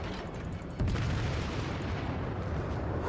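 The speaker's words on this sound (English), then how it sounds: "that destroyer in the background is about to get hit by a torpedo" A torpedo slams into a destroyer in World of Warships, a sudden heavy boom that jumps out of the rumbling battle noise and leaves a sustained, loud roar of explosion and water behind it.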